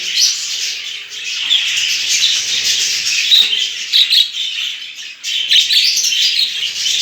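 Budgerigars chirping constantly in a home breeding setup, a busy flock of high twittering and warbling calls close by, with no other sounds.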